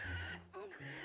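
A pig in the video game Zelda: The Wind Waker lets out one short, rising squealing call in the middle of a steady, looping game soundscape with a low musical drone.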